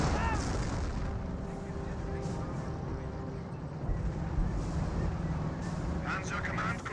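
A Werfer rocket artillery barrage falls in a Company of Heroes match, low booms and rumbling impacts rolling under continuous battle noise, with a sharper burst of blasts near the end.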